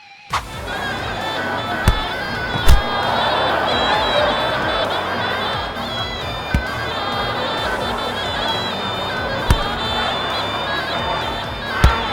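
Thousands of passionate fans cheer at a Muay Thai fight in Thailand, a dense, sustained crowd roar of shouts and whoops punctuated by several sharp, loud bangs.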